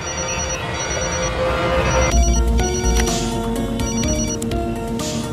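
A telephone rings repeatedly in a dubbed Hindi action film scene, its electronic tone repeating over a low background music bed with no talking.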